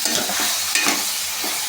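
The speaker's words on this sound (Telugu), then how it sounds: "చూడండి, నేను చికెన్ వండుతున్నాను." Chicken curry cooks in a pan while being stirred, a close, steady sizzle with a few soft spoon scrapes and no voices.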